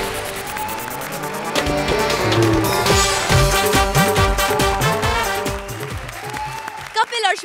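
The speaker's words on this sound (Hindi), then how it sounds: "जोरदार तालियां हो जाए" Studio audience applause fills a comedy show stage, a steady wash of clapping mixed with music and voices that fades near the end.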